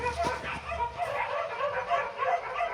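Several dogs bark and yip out on a neighborhood street, moderately distant and intermittent, with a faint voice mixed in over the background.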